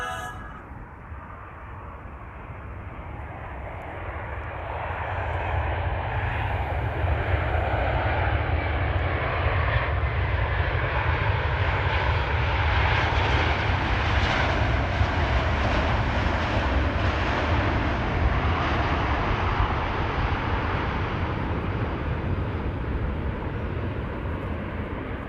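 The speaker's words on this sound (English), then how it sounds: "KLM flight 598 arrived from Cape Town," A KLM airliner arriving from Cape Town at Amsterdam Schiphol Airport, its jet engines swelling into a loud, sustained roar that holds steady as it passes near.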